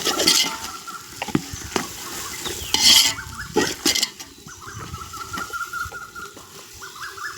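A spoon stirring vegetable biryani in a pot, with several scraping strokes and metallic knocks against the pot, close and alone.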